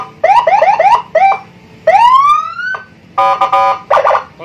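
An aftermarket siren fitted to a Honda Beat motorcycle runs through several loud electronic patterns up close: rapid warbling chirps, a long rising wail, then pulsing stepped tones, with no talking.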